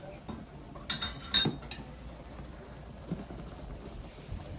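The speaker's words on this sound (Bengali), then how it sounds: "এবার সবকিছু মিশিয়ে নিব।" A metal spoon stirring mutton, chinigura rice and ghee together in a pot for polao, a few brief bright clinks and scrapes clustered early, then quieter stirring under low background noise.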